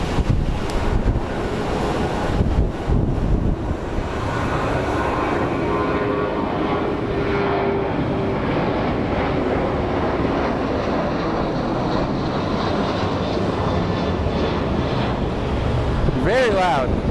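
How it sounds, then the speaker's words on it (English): A United Boeing 737 airliner at Sky Harbor Airport runs its engines in a loud, continuous roar with wind buffeting the microphone, steady throughout with a rising whine near the end. "A United 737 has arrived."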